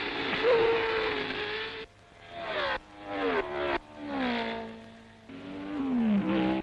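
1962 Formula 1 race cars at the French Grand Prix, Porsche among them, scream down the straight. Loud, close engine notes climb in pitch, then drop sharply at each gear change, over and over.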